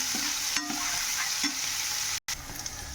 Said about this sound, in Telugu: ఇప్పుడు అవి మనకి పోపు దినుసులు వేగిపోయాయి కదా, దాంట్లోనే ఆనియన్స్ వేసి ఫ్రై చేద్దాం.